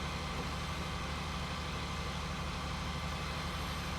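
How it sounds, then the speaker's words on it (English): A tractor engine in a farming video game idles with a steady, continuous low rumble that holds evenly throughout, with no talk over it. "Yeah, that's a nice tractor"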